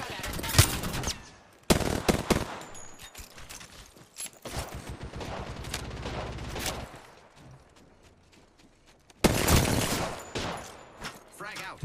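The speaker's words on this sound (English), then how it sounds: "Getting shot at." Apex Legends gunfire in a close-range fight: rapid automatic bursts and single shots crackle in loud clusters, with a sustained rattling stretch in the middle and a heavy burst near the end.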